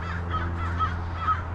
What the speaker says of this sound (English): I can hear those crows in the background.